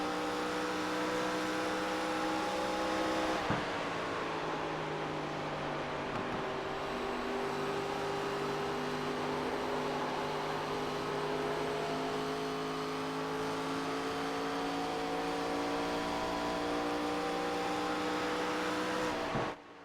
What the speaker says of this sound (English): Now we sound like we're on board with the car, right?